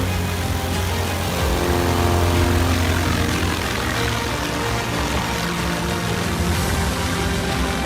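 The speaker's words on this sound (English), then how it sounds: "This is probably the shortest takeoff clip you'll ever see on the internet." An airplane takes off with a loud, steady engine and propeller roar that fills the whole clip, dense and unbroken with a faint low droning hum underneath.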